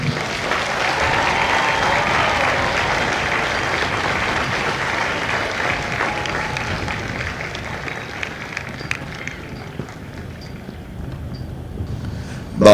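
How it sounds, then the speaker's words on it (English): A large audience applauds at a Marine Corps recruit graduation ceremony at MCRD San Diego, sustained dense clapping that stays strong, then gradually thins and softens toward the end. "please join me in a round of applause for the company staff of Company I"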